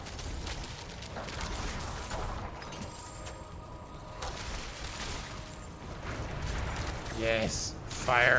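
A Firewall spell cast by a sorcerer in a hardcore permadeath video game, heard as a sustained crackling, roaring rush of fire with scattered bursts under ongoing game noise.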